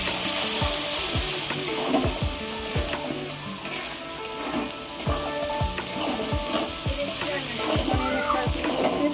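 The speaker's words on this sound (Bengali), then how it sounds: "এবার ডুমো ডুমো করে রাখা টমেটো, এটা ভালোভাবে কষিয়ে নিতে হবে" Diced tomatoes sauté in a pan with a dense, close sizzle. Repeated spatula scrapes and taps come at an irregular rhythm throughout.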